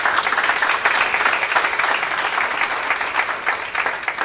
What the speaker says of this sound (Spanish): Sí, démosle un fuerte aplauso.